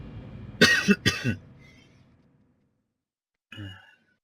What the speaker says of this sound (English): I'm suffering a bit from a cold, so I will try to keep my coughing to a minimum.